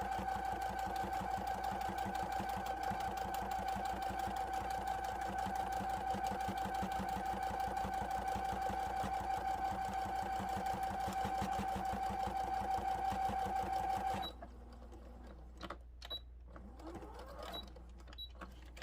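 A sewing machine stitches a fleece bumblebee toy, running steadily with a fast, even mechanical whir and needle rhythm for about fourteen seconds, then stopping abruptly to leave faint handling noises.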